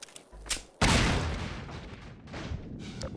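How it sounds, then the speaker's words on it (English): A loud blast in Half-Life 2 bursts in suddenly, then a rumbling decay trails off over the next couple of seconds after a few softer thuds. "Explosion incoming."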